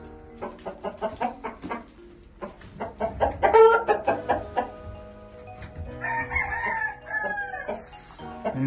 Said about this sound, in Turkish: Benim meşhur sarı horoz.